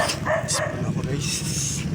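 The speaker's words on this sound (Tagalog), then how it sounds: "Aso." A dog barks in short sharp bursts nearby, with people talking over and around the barks.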